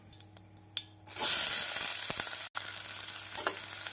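Chopped onions drop into hot oil with cumin and break into a loud, crackling sizzle that continues steadily, briefly cut off once before resuming.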